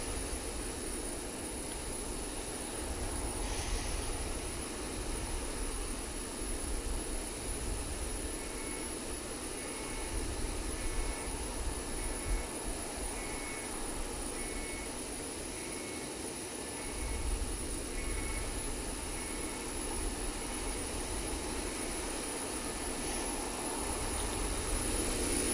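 Boeing 737-800 jet engines in a flight simulator game, a steady broadband roar holding at an even level throughout with a faint tonal whine on top and no voices.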